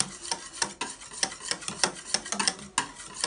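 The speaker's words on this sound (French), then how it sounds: "je mets mon yaourt et je mélange le tout" Yogurt being stirred into a warm mixture for a homemade frozen peach bûche, a series of close, rhythmic wet clicks and scrapes of a utensil against a bowl, repeating about every third of a second.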